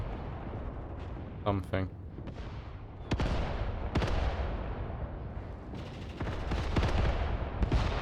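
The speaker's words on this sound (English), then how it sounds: "It looks like they're hitting us with artillery here." Artillery and mortar shells explode in the WW2 video game Mius Front, several heavy booming blasts rolling in one after another over a continuous battle rumble while someone talks.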